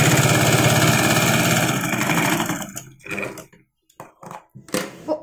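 Sewing machine stitching churidar fabric, a fast continuous mechanical whir for about three seconds, then stopping into short separate bursts of stitching and clicks.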